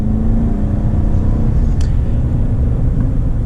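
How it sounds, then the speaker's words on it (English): 2020 Chevy 1500 RST pickup with its 5.3 V8 accelerating, heard from inside as a loud steady low rumble with a faint rising engine note and no talk. "Now let's get a little acceleration with the RST."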